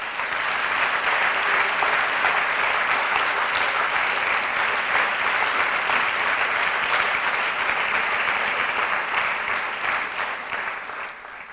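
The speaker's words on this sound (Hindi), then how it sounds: "तरीका हमारा वही होगा कि हम तालियां बजाएंगे।" A crowd claps steadily and loudly for over ten seconds, a dense sustained applause that fades slightly near the end.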